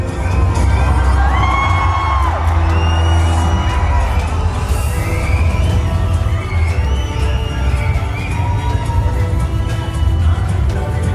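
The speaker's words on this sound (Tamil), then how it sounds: "அமெரிக்க வாழ் தமிழர்கள் உற்சாக மிகுதியில் மகிழ்ச்சி ஆரவாரம் செய்து" Large crowd of Tamil Americans in the United States cheers, whoops and shouts joyfully in a loud, sustained roar welcoming the Chief Minister at an event hall, with children's shrill shouts and bangs scattered through the continuous din.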